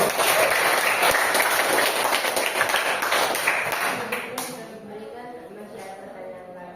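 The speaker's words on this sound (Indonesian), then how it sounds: "Oke, kita tepuk tangan dulu untuk kelompok 1." A classroom of students claps for a presenting group, a brisk burst of many hands that fades out after about four seconds into quieter room noise and a faint voice.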